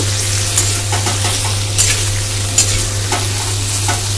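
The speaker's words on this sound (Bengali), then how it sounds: "দিয়ে এটার সঙ্গে ভালো করে এটা মিশিয়ে নেব" A ground cumin, ginger and green chilli paste is stirred into a frying fish curry with daata stalks and potatoes, giving a loud close sizzle broken by repeated scraping spoon strokes.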